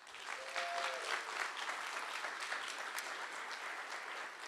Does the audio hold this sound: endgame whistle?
no